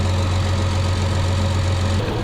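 A car engine runs steadily at idle with a constant low drone and a faint vibrating rumble, close and continuous, with no other sounds over it.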